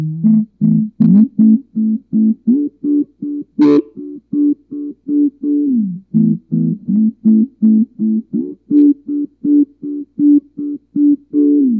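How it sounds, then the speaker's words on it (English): Muffled, dark guitar notes plucked in a quick repeated rhythm through a Q-Tron low-pass filter, the tone rounded and stripped of brightness, played alone. "the low pass filter, it only allows the low frequencies to pass through the filter"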